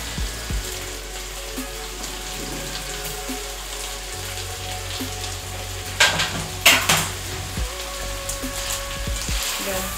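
Yellow, red and green bell peppers sizzle and crackle steadily in a hot pan for a beef stir fry, with a low hum beneath and a few clattering stirs and utensil scrapes near the end.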